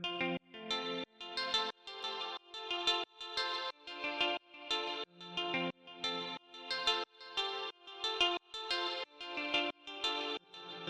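Sampled guitar note played in a mellow track, repeating in a steady rhythm of bright plucked attacks soaked in chorus, echo and reverb, quiet and without any talking.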